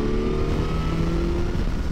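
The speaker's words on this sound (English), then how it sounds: "Really nice honk of the engine there from this thing, really refined." A Suzuki GSX-S1000GT motorcycle engine pulls smoothly in fifth gear at about 50, a loud, refined, steady drone with a slowly rising tone heard from the rider's position over wind, with no talking.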